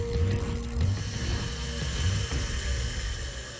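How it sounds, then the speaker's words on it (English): An induction motor's rotor spins with a steady, loud mechanical whir and faint ratcheting rattles throughout, no talking. "the exact same ideas that Nikola Tesla came up with 100 years ago are still used today in induction motors such as this one"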